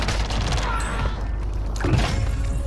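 Video game gunfire rattling in dense, continuous bursts with booms mixed in, loud and close, filling the whole moment.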